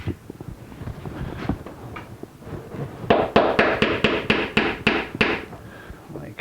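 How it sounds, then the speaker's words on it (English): Sharp, close hammer blows drive wooden dowels out of a guitar side-bending machine, with a quick regular run of about ten strikes after quieter handling knocks. "We can drive out the dowels that are in here."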